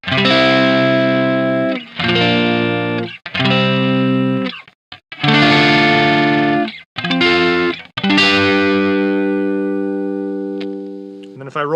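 An electric guitar played through a handwired Rockitt Retro 50 Marshall Plexi replica amp, turned up full: loud, distorted chords rung out in bursts with short gaps, the last one left to sustain and fade.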